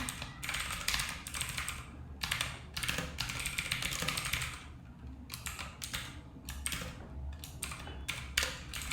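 Code being typed on a computer keyboard, a steady close run of quiet key clicks in bursts with short pauses between them.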